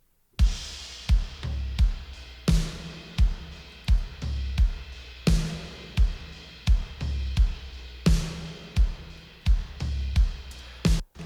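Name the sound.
drum kit mix with parallel compression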